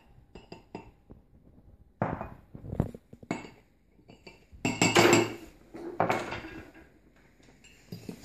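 Ingredients such as sugar, brown sugar and vanilla drops stirred in a bowl at home baking: scattered clinks and scrapes of a utensil against the bowl, irregular and close, with busier clattering in the middle.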